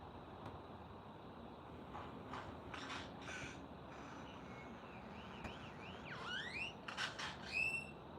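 Crows call outdoors in a yard, several hoarse caws spaced out and growing louder and closer near the end over a faint background hum.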